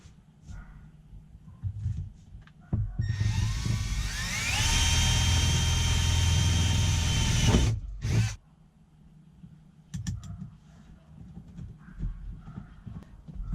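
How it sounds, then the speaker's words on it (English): A small power drill with an 1/8 inch bit whirs up to a steady high whine for a few seconds, then stops abruptly, followed by faint handling noises nearby. "So the speakers came with some screws, so I'm gonna take an 1/8 inch drill bit."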